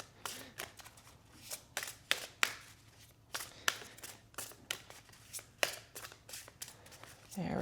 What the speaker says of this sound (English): we'll shuffle up the card deck here